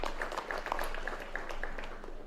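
An audience claps steadily and moderately loud for a student at a live results announcement, a continuous patter of many hands with no break.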